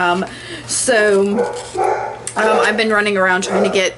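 A dog barks and yips repeatedly close by, mixed with someone talking indoors over it.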